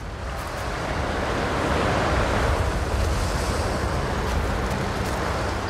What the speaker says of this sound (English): So fucking windy.